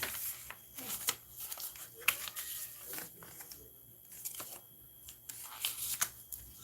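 Paper envelope being handled close up, a quiet, soft run of rustling, crinkling and sliding paper in short irregular bursts, no voices.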